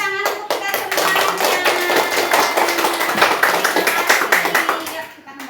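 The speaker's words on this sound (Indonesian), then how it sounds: "boleh tepuk tangan untuk kita semuanya" Children clap their hands together in a classroom, a lively run of dense, uneven claps lasting several seconds, with voices chattering faintly beneath before it fades out.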